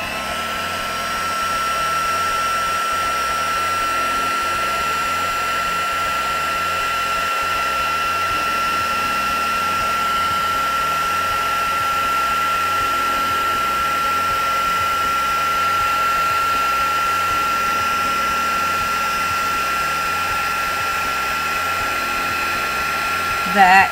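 A heat tool blows steadily on a gloss card for crafting, a continuous close, even whirring fan with a high whine lasting throughout.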